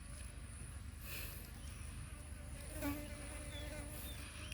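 Bees buzz around a hive outdoors in a faint, continuous droning hum with a slight swell partway through, quiet and somewhat distant.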